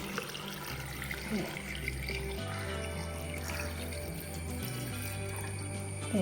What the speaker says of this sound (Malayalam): ആ വെള്ളം മുഴുവൻ ഞാനൊഴിച്ച്